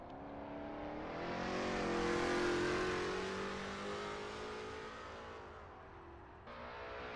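A Lola T70 MkII Spyder race car at Bathurst in a racing game, its engine roaring steadily and close as it climbs and sustains revs through a flying qualifying lap, then easing briefly before picking up again.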